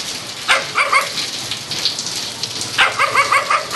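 Heavy rain pours steadily onto surfaces in a flooded office backyard, a continuous close hiss, with two bursts of dog barking breaking through early and near the end.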